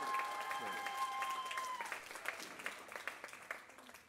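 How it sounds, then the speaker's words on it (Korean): Applause fills a church youth worship service, a crowd clapping steadily before it thins into scattered claps, with a voice speaking over it. "다시 한번 박수."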